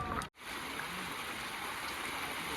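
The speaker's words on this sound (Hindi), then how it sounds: "देसी पानी, इसे हम कह सकते हैं देसी चश्मा" Natural spring water flows steadily along the Amarnath Yatra mountain route, a continuous rushing stream sound, close and fairly loud, with a brief dropout near the start.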